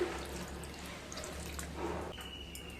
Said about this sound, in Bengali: হাফ বোল টক দই দিয়ে দেব, আর দিয়ে দেব হাফ বোল জল